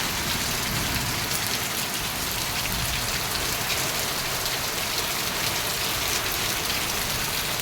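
Heavy rain falling during a day-long downpour, a dense, even hiss of drops on surfaces that stays constant and loud throughout, no voices.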